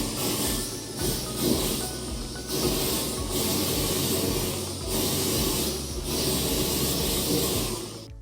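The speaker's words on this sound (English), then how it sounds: "Now we're not done because this beauty's got to get a sear." A sous vide chuck roast being seared gives a loud, close, continuous hiss that swells and fades in several waves, with no talk.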